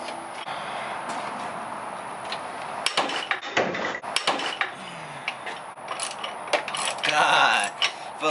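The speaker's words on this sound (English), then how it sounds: "I feel like I broke the whole goddamn ratchet, Brody." A ratchet and breaker bar loosening bolts on an Acura RSX, heard as sharp metallic clicks and clanks in bursts of tool strikes, with brief voice sounds between them.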